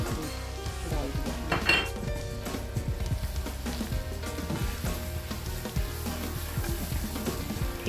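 Ginger, garlic and spices frying in a pan for lamb keema samosas, a steady soft sizzle with frequent metal spoon scrapes and clinks against the pan, close and continuous.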